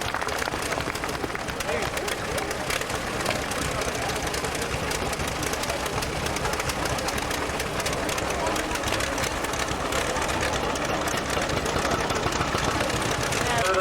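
A tractor engine at a rural heritage village rally rumbles steadily and loudly throughout, a continuous mechanical drone with knocking texture and no pauses.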